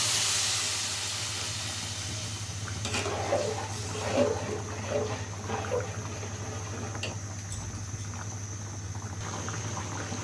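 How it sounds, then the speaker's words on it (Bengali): Water poured into a hot cooking pot, heard as a soft steady hiss and sizzle with a few splashy bursts, faint and continuous with no talk. "এখন আমি হচ্ছে পরিমাণ মতো জল দিয়ে দিব।"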